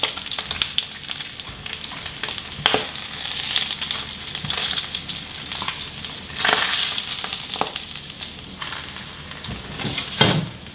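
Meat searing in a hot pan, forming a crust, with continuous sizzling and frying crackle and occasional louder spatters and stirring scrapes, close and without talk.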